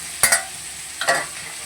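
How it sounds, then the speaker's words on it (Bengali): Fried shrimp get stirred into spices in a pan, two quick, sharp scraping strokes of a spatula over a low sizzle, close and with no talking. "এবার আমি চিংড়ি মাছ ভাজাটাকে এর মধ্যে দিয়ে দিলাম"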